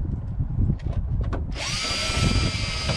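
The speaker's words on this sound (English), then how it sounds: "screw these back in." A power screwdriver drives screws back into a computer monitor casing, first with short clicks and rattles of handling, then a steady high whir of the motor running continuously at close range.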